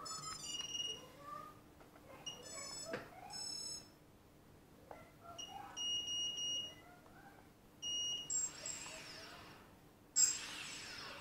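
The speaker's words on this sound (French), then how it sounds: "vous avez entendu un bip" An Eachine EB185 racing drone and its remote give off several short, sharp electronic beeps at irregular intervals during setup, with quiet handling noise in between and a louder burst near the end.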